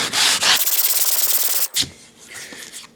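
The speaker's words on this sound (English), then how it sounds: "it keeps the end of my block from sanding the veneer up here" A long sanding block is pushed by hand across wood veneer in rapid, rhythmic rasping strokes, loud and close, then stops abruptly, followed by a brief knock and quieter handling.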